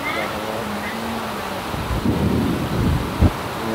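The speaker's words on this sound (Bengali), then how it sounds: "এত জোরে বৃষ্টি পড়ছে" A hard downpour in Dhaka's Shahinbagh neighbourhood hisses steadily and loudly, with faint voices early on, low gusty rumbles building in the second half and a sharp thump near the end.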